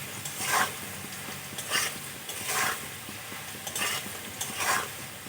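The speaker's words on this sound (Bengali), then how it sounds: "আলুগুলো কিন্তু আমি লাল করে ভেজে নিয়েছি" Potatoes frying in oil in a pan and being stirred, an even sizzle with four regular swells of scraping stir strokes, close and fairly quiet with no voices.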